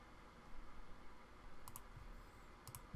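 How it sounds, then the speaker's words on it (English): Faint, sparse clicks of typing on a computer keyboard sound close by in a quiet room, with a few short bursts of keystrokes separated by stillness. "I'm going to type it in"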